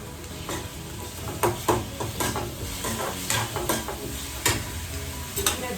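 Turmeric, cumin powder, red chili powder and garam masala go into a pan of dal fry, which sizzles steadily while a spoon scrapes and clinks against the pot in irregular close strokes, with no voices.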